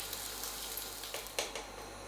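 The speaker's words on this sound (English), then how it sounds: "So I'll sear this and I'll be back." Beef cheeks searing in a hot pan, a steady quiet sizzle with a few soft pops and crackles over a low background hum, close by and with no talking.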